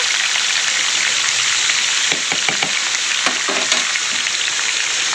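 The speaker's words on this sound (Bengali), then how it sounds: "দিয়ে এই মাংসগুলো কড়াতে দিয়ে দেবো দিয়ে দিয়েছি" Chicken pieces sizzling in hot oil in a wok for chilli chicken, a dense, steady frying hiss with a few brief stirring scrapes, heard close with no voices.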